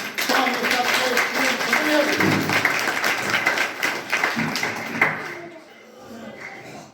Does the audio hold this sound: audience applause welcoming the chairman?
yes